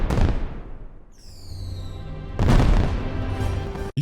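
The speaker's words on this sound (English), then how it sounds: "That's some crazy firework here." Anime fireworks explode with loud, deep booms, one burst at the start and another heavy blast midway, each trailing into a rumbling roar, with a rising whistle-like streak between them.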